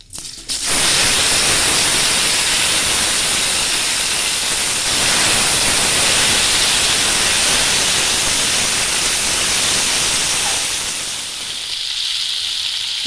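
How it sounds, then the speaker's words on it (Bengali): Pieces of papaya and potato, already boiled, drop into hot oil and fry with a loud, steady hiss and sizzle that fills the pan, easing slightly near the end. "পেঁপে আর আলুটা একটু ভাজা করে নিই"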